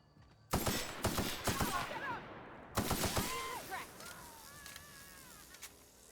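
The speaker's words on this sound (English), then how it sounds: "Can I just shoot you a little bit?" Gunfire in the video game The Outer Worlds comes as two close bursts of rapid shots separated by a short pause, followed by whistling, chirping game effects that fade away.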